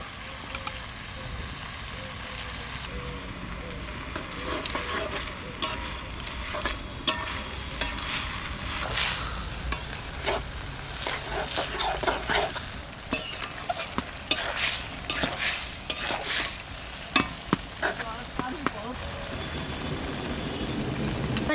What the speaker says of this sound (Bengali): এটা শাক কটা দিয়ে দিচ্ছি।